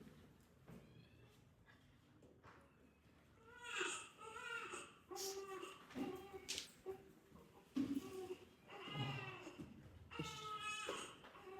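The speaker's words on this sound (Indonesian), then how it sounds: "Sang Prabu mendengar isakan tangis seorang bayi." An infant sobs and wails in several rising, broken bursts, fairly close and moderately loud, with whimpering breaths between cries and no talk over it.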